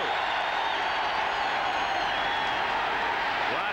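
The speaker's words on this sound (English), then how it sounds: "Listen to this crowd." Stadium crowd at a 1987 Seattle Seahawks home football game against the Dolphins, a loud, dense, sustained roar with no break across the whole stretch.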